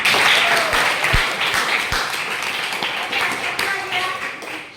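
Students in a classroom give a round of applause, a dense burst of clapping that fades out over a few seconds, with a few sharp taps and some voices mixed in.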